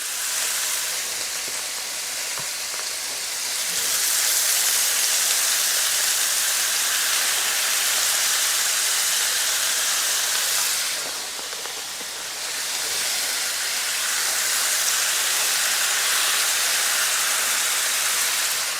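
Ground beef for chili sizzles loudly while browning in a pot, giving a steady, dense hiss that swells and briefly dips twice across the span, with no talking.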